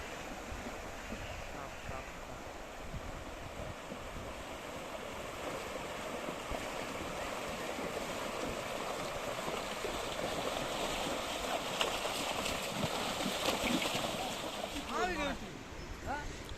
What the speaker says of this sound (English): So we have to cross this river